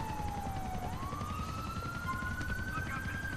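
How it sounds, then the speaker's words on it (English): A wailing ambulance siren in Grand Theft Auto IV, a steady tone sweeping upward and holding, heard moderately loud over a low rumbling engine and traffic bed. "Wow, freaking ambulance."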